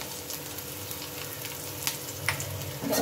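Black cumin, white cumin, chopped ginger, green chili and chili flakes fry in a little oil with a soft, faint sizzle, and there are a couple of light stirring scrapes near the end.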